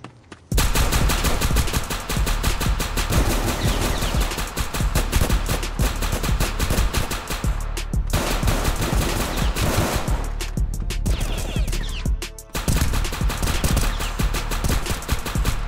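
Tec drum gunfire in Roblox South Bronx, a loud, rapid, sustained automatic burst that runs almost without pause, broken by a few short gaps before firing resumes.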